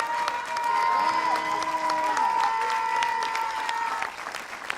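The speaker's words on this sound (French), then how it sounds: "Allez, vos applaudissements, bon s'il vous plaît." Audience applause at the closing ceremony of the Saint-Jean-de-Luz International Film Festival, a dense, sustained clapping from a full hall lasting several seconds, with a voice and faint tones carrying over it before it fades.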